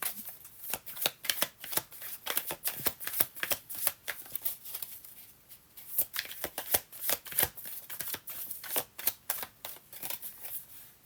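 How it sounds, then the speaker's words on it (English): Tarot cards being shuffled by hand before one is drawn, a long run of quick crisp riffling flutters in irregular bursts, close and fairly quiet, with no talking. "Let me grab a card for Sunny now."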